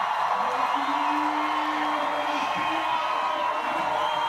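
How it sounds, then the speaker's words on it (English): Czech spectators at a women's bouldering final of a climbing World Cup in Prague shout and cheer in a steady, dense roar throughout, with a sustained whoop standing out partway. "The Czech crowd does not need much encouragement to start shouting."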